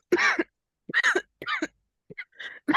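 A woman gives a series of short coughs and throat-clearing bursts, about five separate close, fairly loud fits spaced by brief silences, with no speech.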